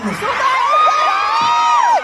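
A crowd at a performance in Pangasinan cheers loudly, with high, sustained whooping shouts and screams rising and falling over a dense roar of voices for about two seconds.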